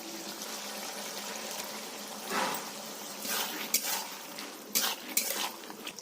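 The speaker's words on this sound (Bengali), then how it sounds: "কিছুক্ষণ মশলাটা দিয়ে কষে নিতে হবে" Blended spice paste is sautéed with softened bottle gourd in a pan. Steady low sizzling runs under repeated scraping and clinking of a spatula against the pan, growing busier toward the end.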